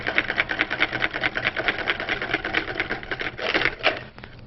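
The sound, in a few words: whisking a salad dressing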